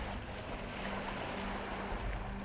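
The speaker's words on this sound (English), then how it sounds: "Wind creates waves and difficult currents." Wind-driven ocean waves off Polynesia wash continuously from a boat at sea, a dense, rumbling surf mixed with gusty wind buffeting the microphone.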